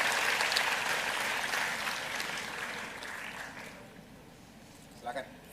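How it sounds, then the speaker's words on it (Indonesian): Applause from a summit audience welcoming a guest, a broad wash of clapping that gradually fades, followed by a couple of brief knocks near the end. "Mari kita tepuk tangan dulu untuk Pak Erlangga."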